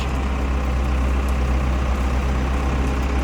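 A DD75 tractor engine idles close by with a steady, unbroken low rumble and no voices over it.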